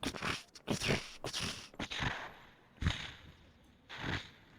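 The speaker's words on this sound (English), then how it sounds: "you hear these the snow crunching under the feet of this large creature" A large creature's heavy feet crunch through snow and icy chunks in a run of loud, close, irregular crunches, with a pause before two more crunches.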